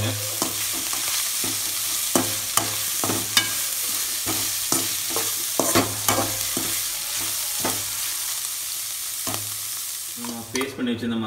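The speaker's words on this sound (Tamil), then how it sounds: "நல்லா கொஞ்சம் நேரத்துக்கு வணக்குங்க." Goat intestines sizzle and fry steadily in a hot pan while a utensil scrapes and stirs in repeated sharp strokes, close and fairly loud, with no talking.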